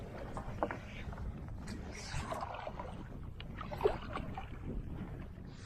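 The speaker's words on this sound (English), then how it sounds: "I'm going to go for a little paddle about" Gentle rhythmic kayak paddle strokes and water splashes, with light wind buffeting the microphone and no talking.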